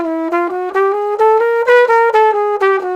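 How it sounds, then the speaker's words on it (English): Eighth notes walk up a chromatic scale on a single melodic instrument in a jazz setting, about four even, clearly separated notes per second, played alone and close. "we're just going to play the chromatic scale in eighth notes all the time"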